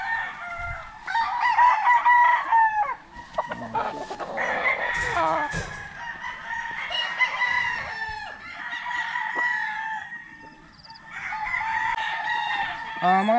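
Gamefowl stag roosters crow repeatedly at a gamefarm, several loud cock-a-doodle-doos close by, with clucking and brief human voices in the background.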